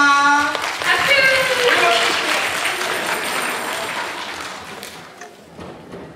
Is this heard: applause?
yes